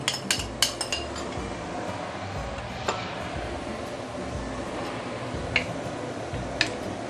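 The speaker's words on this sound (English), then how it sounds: "Give it a few stir." Vegetable stir fry being stirred in a pan off the heat after adding starch solution, with a few sharp clinks of utensil against metal over a soft, steady background of kitchen noise.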